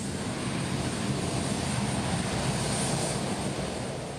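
A Hercules military transport plane lands, its propeller engines making a loud, steady, broad roar that fills the stretch and eases slightly toward the end.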